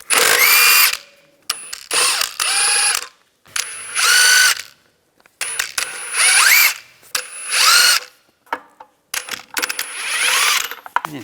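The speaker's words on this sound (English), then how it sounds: "use a 22mm socket, take the lug nuts off." A power impact wrench with a 22mm socket spins the lug nuts off a wheel of a 2010-2016 Cadillac SRX. It comes as a series of loud, close, buzzing rattling bursts separated by short pauses, with no talk.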